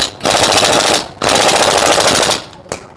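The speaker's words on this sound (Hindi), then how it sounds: "इसको मशीन की मदद से हम कर देंगे फुल टाइट" A power tool tightens the clutch nut on a TVS Apache motorcycle during a clutch plate replacement, firing two long, loud rattling bursts close by, followed by a short final blip.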